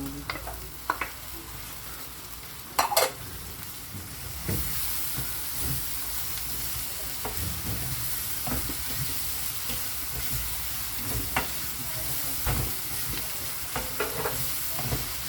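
Shrimp paste (alamang) sizzles steadily in a hot pan while being stirred, giving a continuous frying hiss broken by occasional clinks and scrapes of the utensil.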